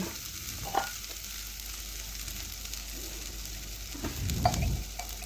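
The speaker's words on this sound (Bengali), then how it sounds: "সর্ষে বাটা দিয়েছি এখন একটু ভালোভাবে নাড়াচাড়া করে একটু মিশিয়ে নেব" Mustard paste frying in oil in a pan for a catla fish curry, a soft steady sizzle with occasional stirring scrapes and a louder bubbling burst near the end, close and quiet, no talking.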